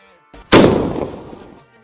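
A single loud Diwali firecracker blast goes off close by, giving a sharp crack followed by a rumbling decay that fades over about a second, with a faint pop just before it.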